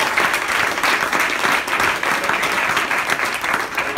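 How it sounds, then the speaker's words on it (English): Continuous, full audience applause in a hall for Olympic wrestler Kyle Snyder, dense and even in loudness from start to finish with no talk over it. "So let's give a round of applause one more time."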